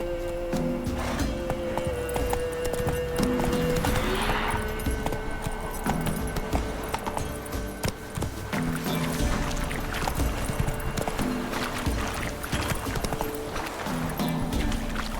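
Hooves clip-clop steadily as a horse gallops in The Witcher 3: Wild Hunt, a continuous rhythmic beat under game music and ambience, with occasional jangling tack and a brief neigh.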